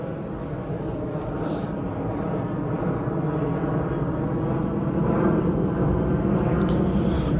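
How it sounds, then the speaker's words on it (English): A plane passing overhead outdoors, a steady broad roar that stays loud throughout and swells slightly toward the end, with no talk over it. "let me let this plane go by"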